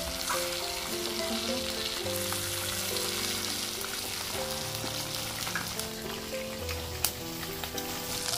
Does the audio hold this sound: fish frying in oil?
yes